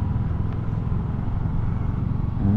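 Motorcycles on a road near Tagaytay rumble with a steady, loud, low engine drone that stays close throughout.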